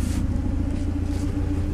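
A Saab 900 Turbo 16S engine idles smoothly nearby, a steady low rumble with an even hum and no other sounds over it.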